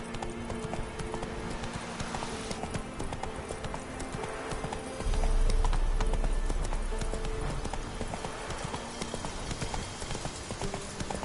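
Hoofbeats of the horse Roach trotting in a PS4 video game, a steady, close clip-clop rhythm running throughout over background game ambience.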